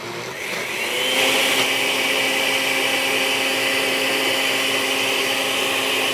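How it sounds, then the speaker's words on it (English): A kitchen blender runs loud and close, spinning up over the first second and then holding a steady whirring drone to the end with no talk. "the reason that the blender works is that everything funnels down to the blade"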